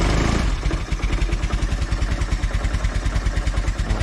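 Cold Velocette motorcycle engine running at idle, a loud, close, steady thumping beat with mechanical clatter, the pulses spacing out slightly as it slows.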